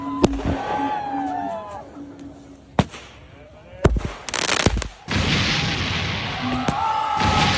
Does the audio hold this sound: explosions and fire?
yes